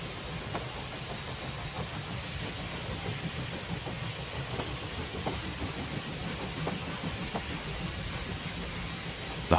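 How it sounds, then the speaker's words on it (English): Rovos Rail's Pride of Africa, a historic 1948 steam locomotive, chugs into its home station at Capital Park, Pretoria, with regular rhythmic puffs over a steady mechanical rumble, heard from moderate distance. "The heart of every train enthusiast beats in time with this historical steam engine when the pride of Africa chugs into its home station, Capital Park"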